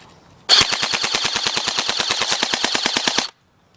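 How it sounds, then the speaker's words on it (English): An airsoft gun fires on full auto into a cardboard box on a junk pile, a single continuous burst of rapid, evenly spaced cracks lasting about three seconds, loud and close, then stopping abruptly. "I'll show you guys full auto stuff"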